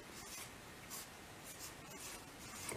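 Pen scratching across paper while a fraction is written out by hand, a soft continuous scribble with brief bursts of stroke activity, close and fairly quiet with no talking.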